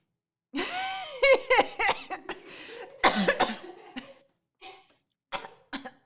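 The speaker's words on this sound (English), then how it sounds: "That made me cough." A burst of harsh coughs, several in a row, followed by a few scattered smaller coughs with pauses between.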